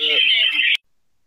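A telephone ringtone sounds during an interreligious debate: one loud, steady electronic tone that holds for under a second and then cuts off abruptly into silence.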